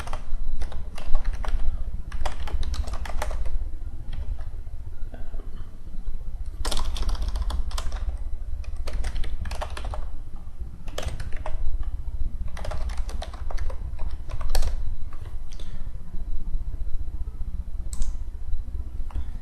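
A password typed on a computer keyboard: close, steady bursts of clicking keystrokes in uneven clusters with short pauses, over a low hum.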